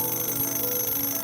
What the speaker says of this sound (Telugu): మాయా గడియారం మోగి ఇలా అన్నది.